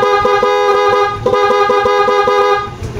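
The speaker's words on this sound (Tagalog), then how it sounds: "Sa low beam, busina tayo mga sir." Horn of a Suzuki Smash 115 motorcycle sounding in a steady, loud, continuous blare for nearly the whole stretch, with a brief dip partway through and a fade at the end.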